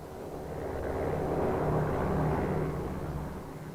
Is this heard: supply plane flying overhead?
yes